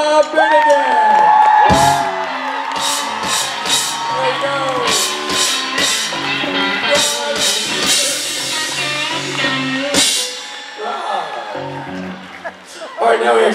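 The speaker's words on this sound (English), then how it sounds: "Ladies and gentlemen, round of applause for Mr. Rob Benedict." A convention crowd at a Supernatural fan panel with Rob Benedict cheers and whoops, loud sustained shouting and clapping, with talking heard over the noise.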